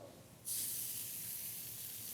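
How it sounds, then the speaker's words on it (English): A sudden loud sizzle bursts in as skirt steak hits a very hot salt slab, then continues as a steady, bright hiss. "And now you're going to hear it sizzle."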